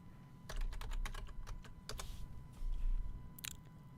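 Typing on a computer keyboard: quick, close clicks in uneven bursts with short pauses between, and no voices.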